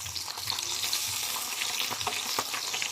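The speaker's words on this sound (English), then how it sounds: "it's time to flip over the bacon" Bacon sizzles in a non-stick pan with steady crackling and scattered sharp pops throughout, close and fairly loud, with no talking.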